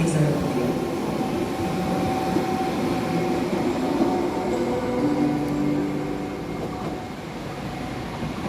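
A Koleje Małopolskie passenger train rolls into Kraków Główny station, a steady rumble and rail noise filling the platform throughout, with faint voices or announcements beneath.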